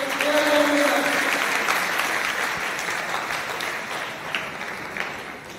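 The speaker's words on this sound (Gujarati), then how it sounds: "આપણે જોરદાર તાળીઓ પાડીએ." Audience applause at a school prize distribution ceremony, a sustained wash of clapping from many hands that holds steady and tapers slightly toward the end, with no talk over it.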